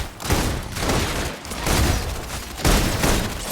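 Suppression gunfire in the video game Love and Deepspace: dense, loud bursts of rapid shots arrive in several heavy waves, each swelling and fading, filling the whole stretch with no speech.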